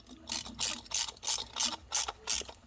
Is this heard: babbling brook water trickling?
no